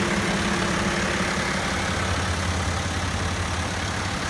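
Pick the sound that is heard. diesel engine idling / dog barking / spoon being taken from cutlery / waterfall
diesel engine idling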